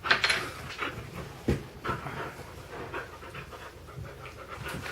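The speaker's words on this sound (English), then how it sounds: "And here's our Winston. little puppy." A little puppy named Winston pants quietly and steadily up close, with a few soft knocks and shuffles around him and no talking.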